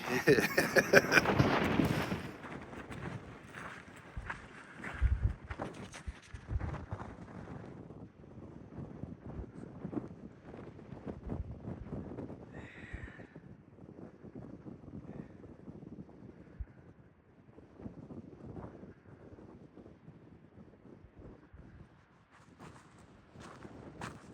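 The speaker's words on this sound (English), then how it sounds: "There's wind whipping early today, but it's cool, which is refreshing." Wind gusts buffet the microphone outdoors on a cool morning on the Continental Divide Trail, with loud rumbling bursts at first that ease into lighter blowing, along with footsteps and a person talking.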